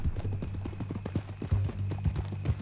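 Horse hooves clip-clop in a steady walking rhythm, close and fairly loud, with a low game-engine hum beneath, from a horse in the Red Dead Redemption 2 video game.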